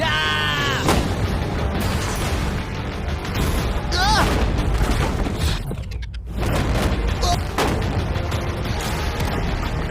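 Gunfire aimed at a shipping container, a loud crack followed by a dense burst of booming shots and impacts, with voices shouting and talking over the din throughout.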